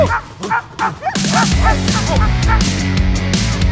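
A dog barks in a quick series of sharp yips, followed by dense, continuous loud barking layered over a steady droning background, close to the listener.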